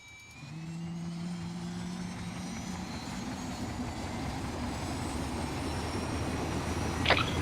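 An aircraft engine in ARMA 3 spools up, starting as a rising tonal whine and building into a steady, growing roar, heard alone at moderate loudness.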